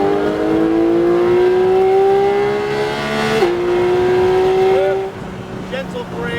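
A Porsche 718 GT4 accelerates on a racing track, its engine note climbing steadily in a clear rising whine. One quick shift breaks the climb partway, then the revs rise again before the car lifts off. A voice talks over the engine.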